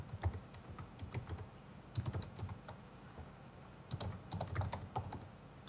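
Typing on a computer keyboard during an online blitz chess session, with quick clusters of light key clicks in irregular bursts separated by short pauses, close and fairly quiet, with no talk.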